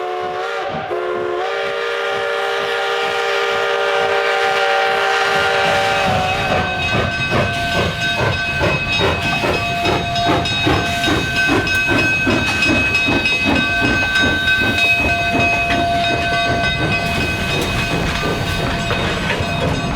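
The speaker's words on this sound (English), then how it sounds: "481 steams out of the Durango depot with train 261 across 6th Street" K-class coal-powered steam locomotive 481 pulls its train out of the Durango depot, first with a loud sustained steam whistle, then steady chuffing exhaust beats and hissing steam, close and powerful with no talk.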